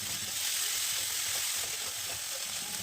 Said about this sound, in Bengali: দুটো মিডিয়াম সাইজের পেঁয়াজ বাটা এর মধ্যে দিয়ে একটু লালচে করে ভেজে নেব।